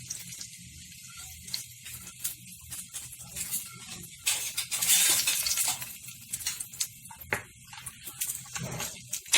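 Chopped garlic sizzles as it is sautéed in a pan for a Maggi noodle recipe, with a steady frying hiss, scraping stir strokes and a brief louder sizzle burst midway, close and alone.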